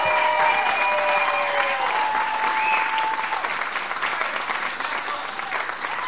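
Audience applause welcoming the band, a dense steady clapping from a crowd that swells at the start and holds strong throughout with a few faint voices mixed in.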